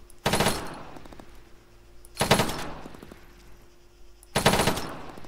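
An automatic rifle in Arma 3 fires three loud, rapid bursts spaced about two seconds apart, each a dense rattle of shots fading into echoing decay.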